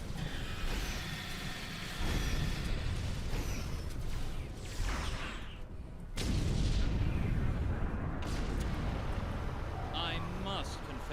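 Grenade blast in the video game Star Trek Online, a loud booming burst amid continuous combat noise, with whooshes and other heavy impacts around it.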